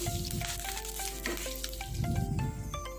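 Whole garam masala spices, a few cumin seeds and curry leaves being stirred and fried in a hot pan, with a steady close sizzle, crackling pops and occasional utensil scrapes over background music.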